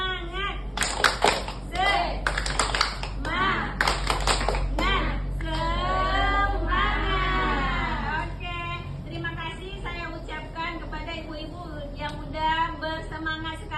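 A group of women doing the tepuk semangat spirit clap at the close of a training session, several sharp rhythmic bursts of clapping up close, then chanting and talking voices that continue after the claps.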